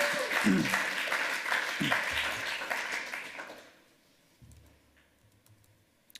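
An audience at a hacker conference's lightning talks applauds after a talk, a strong round of clapping for about three seconds that fades away, leaving near silence and faint room sounds.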